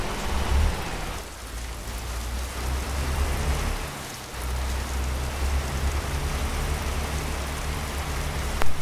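Steady rain in American Truck Simulator, a continuous broadband hiss from start to finish over a low engine rumble from the truck, with no talking.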